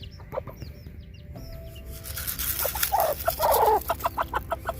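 Several chickens clucking close by, busy overlapping calls that grow louder and denser toward the end, with a faint background hum.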